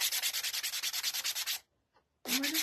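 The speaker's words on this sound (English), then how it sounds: "So I'm just going to take my little sanding sponge" Fast, rhythmic scratchy rubbing of a sanding sponge on painted wood, about a dozen quick strokes, a brief pause, then rubbing resumes, close and loud.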